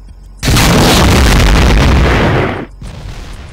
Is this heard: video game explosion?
yes